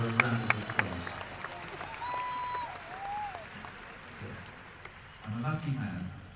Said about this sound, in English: we can unembarrassedly give her a round of applause